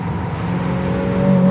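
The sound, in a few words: 1957 Chevrolet Bel Air exhaust while driving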